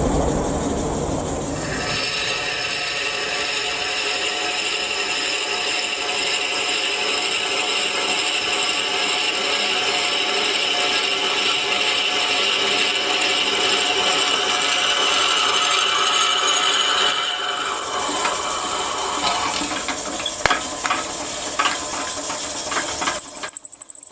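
A continuous high-pitched whine and grinding drone holds steady for a long stretch as a drill bores straight through a Corian blank on a lathe, then shifts and ends with a sharper rasp.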